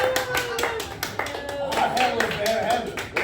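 Audience applause during a comedy radio-style show, with a burst of clapping layered under ongoing talk and laughter from people on stage, fairly close and lively.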